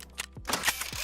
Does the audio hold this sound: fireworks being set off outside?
yes